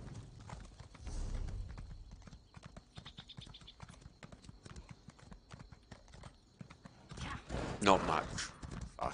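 Video game horse hooves clop rapidly in a galloping rhythm throughout, moderately close, with a brief whinny near the end and a voice speaking intermittently.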